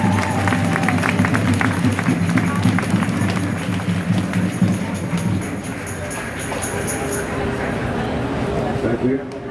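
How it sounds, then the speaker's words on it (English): A crowd at a rally cheers and claps loudly in a dense burst of applause that gradually thins and fades, with voices mixed in. "Give him a round of applause,"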